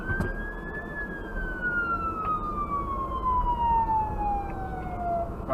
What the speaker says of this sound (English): Where's the other siren coming from?